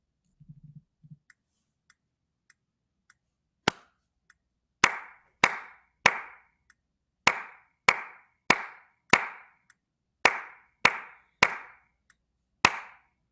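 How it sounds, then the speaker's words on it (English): A single person claps a rhythm for a SmartMusic assessment: faint metronome-like ticks first, then about a dozen sharp, close hand claps in a fairly regular pattern, one landing noticeably weaker than the rest. "one of my claps was not very good"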